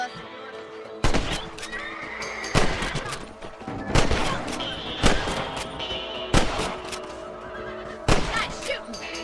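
Rifle shots in the Red Dead Redemption video game, fired at rabbits raiding crops on a ranch. About six sharp, loud cracks come at roughly even intervals, with a horse's whinny and ambient ranch sounds between them.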